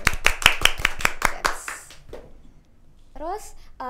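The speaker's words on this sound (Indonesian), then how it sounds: "Tepuk tangan dulu." Eight sharp hand claps in a steady quick rhythm at a podcast, close and loud, fading into quiet, followed by brief chirpy voices at the end.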